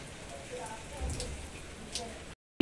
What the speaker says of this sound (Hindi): आजकल इस तरह से हो रही है बिन मौसम बरसात और तेज आई है बिल्कुल